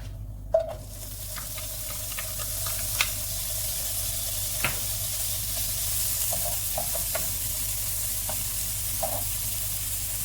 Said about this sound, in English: We add the lean bacon cut into cubes.